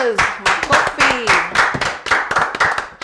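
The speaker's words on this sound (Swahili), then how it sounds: "Makofi." Audience clapping with sharp, rhythmic claps at a family gathering for a birthday celebration, a voice speaking over it.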